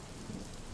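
A thunderstorm rumbles low and heavy under a dense, steady hiss of rain, a brief unbroken wash of sound with no voices.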